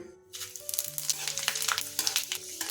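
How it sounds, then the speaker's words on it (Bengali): Panch phoron spices hit hot oil alongside red chillies already fried for a raw tamarind chutney, giving a close, crackling sizzle with sharp pops and stirring scrapes throughout, no voices. "এখন এর মধ্যে দিচ্ছি পাঁচ ফোড়ন"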